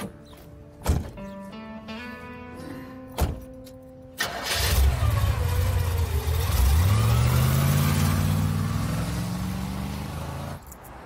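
A car engine cranks and catches after a few sharp clicks, then settles into a steady, loud idle with a brief rev, close by and with no talk over it.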